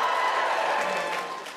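Studio audience at a Live at the Apollo comedy show applauding, a dense sustained clapping that holds steady and then starts to fade toward the end, with no voices over it.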